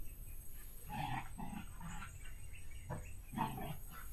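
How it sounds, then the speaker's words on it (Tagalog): A dog plays outdoors at a mountainside cemetery in Mindanao, giving a few short, faint grunting yelps in separate bursts against a quiet background. "May asong naglalaro"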